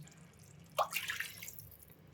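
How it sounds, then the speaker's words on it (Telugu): Water poured from a cup into a cooking pot for sambar upma, a short, soft splashing gush that starts suddenly, fades over about half a second and is heard alone in a quiet room. "ఇప్పుడు ఈ కప్పుతోని 3 కప్పుల వాటర్ యాడ్ చేసుకోండి"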